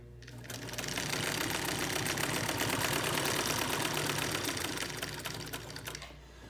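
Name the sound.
Singer 99K vintage sewing machine stitching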